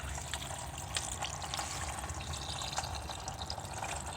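Coolant spraying and trickling from a leak in a pressurized Mazda 3 cooling system filled with water, a continuous faint hiss with soft splashes, quiet and steady.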